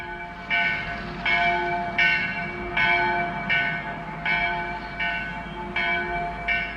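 A village church bell tolls in a steady, regular rhythm, each ringing strike overlapping the last with a sustained metallic hum, heard clearly and fairly loud without any talking.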